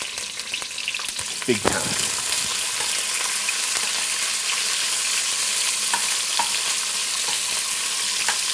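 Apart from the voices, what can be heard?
peppers frying in extra virgin olive oil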